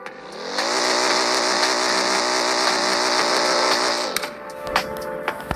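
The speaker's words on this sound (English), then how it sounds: "Rev test. Here we go. We're about to rev it." A remodeled car in the Roblox game Car Crushers 2 revs hard for about four seconds, a loud sustained engine roar with rising harmonics, then cuts off into quieter popping and crackling bursts at the end.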